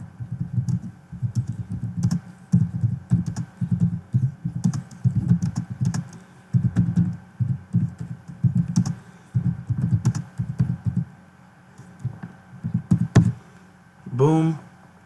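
Rapid keystrokes on a computer keyboard, typed in quick irregular bursts with short pauses, close and clear, with a brief voice near the end.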